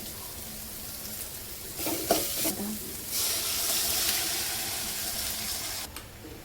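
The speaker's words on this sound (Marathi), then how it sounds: "डाळीला छान आता उकळी आलेली आहे" A pot of urad dal bubbles and hisses steadily, with a brief clatter of stirring partway through, no voices.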